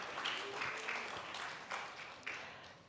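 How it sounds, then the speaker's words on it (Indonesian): A fairly quiet round of audience applause rises at an academic professorship inauguration at a university faculty, soft scattered clapping with a few sharper claps standing out near the end. "Tepuk tangan Pak Iwan."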